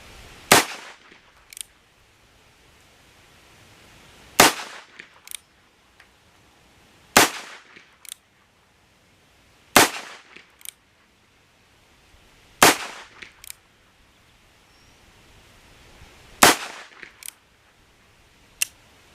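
A Chiappa .22 fires at a bullseye target outdoors: six sharp, loud cracks spaced a few seconds apart, each with a brief tail and quiet between.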